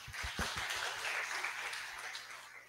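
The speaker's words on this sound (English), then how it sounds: "let's again give a round warm of applause for our expert" Seminar audience clapping for an expert speaker at a food sensory analysis session, a burst of close, uneven hand claps that thins and fades over a few seconds without any voices.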